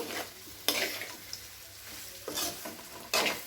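Soya chunks stir-fry with spices in a pan on the stove, a soft low sizzle broken by four loud scraping strokes of a spoon against the pan.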